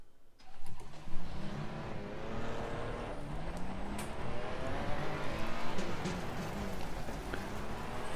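Ferrari 296 on the Paul Ricard circuit, a steady engine drone with shifting harmonics as it drives, rising after the first second and holding loud throughout, with some rough broadband noise.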